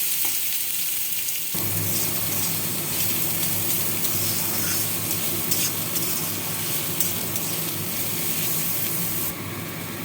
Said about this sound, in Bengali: জিরে ফোড়ন দিলাম, পেঁয়াজ কুচি ভেজে নেব।